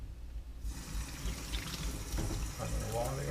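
Perch being rinsed under running tap water in a sink, a steady splashing flow that starts abruptly and keeps going, close and moderately loud, with faint background voices.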